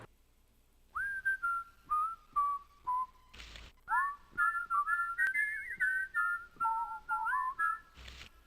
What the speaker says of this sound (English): that's the same whistling sound effect used in the Blue's Clues games